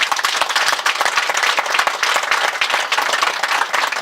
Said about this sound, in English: I want all of you to clap louder for our panelists.